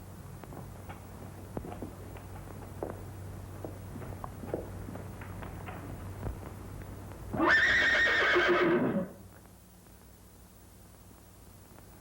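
A horse lets out a single loud whinny lasting about a second and a half, following soft, scattered clip-clop hoofsteps on a hard floor indoors.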